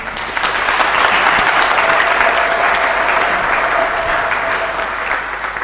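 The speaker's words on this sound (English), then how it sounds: "Let's clap for them." Sustained applause from a church congregation at a Capuchin Franciscan ordination Mass, clapping steadily for three newly ordained deacons; loud, dense and continuous throughout without talk.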